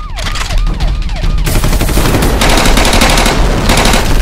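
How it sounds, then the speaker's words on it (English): Loud, sustained automatic gunfire fills an action-movie shootout, dense rapid bursts continuing without pause, with a brief rising-and-falling siren wail at the start. "They're shooting at us!"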